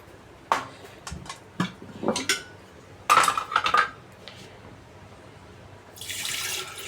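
Metal spoon clinking and scraping in a bowl or pot as something is stirred in a home kitchen, a few sharp bursts of clatter with pauses, close by, followed by a brief rush of running water near the end.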